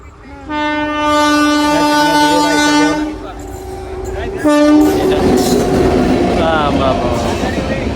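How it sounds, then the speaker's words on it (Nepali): A long train passes at the India–Bhutan border in Jaigaon, its loud horn blaring twice near the microphone over rumbling wagons and rail noise, with a voice talking faintly under it. "रेल आउँदैछ"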